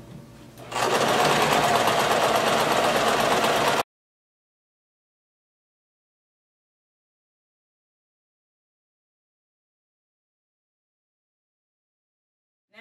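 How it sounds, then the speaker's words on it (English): A sewing machine stitches the hem of a denim maxi skirt. One close burst of steady, fast stitching lasts about three seconds, then cuts off into silence. "I'm gonna go ahead and start sewing my hem"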